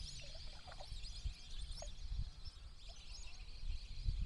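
A spotted duck calls a few times from a distance, short bursts over steady outdoor hiss and low rumble.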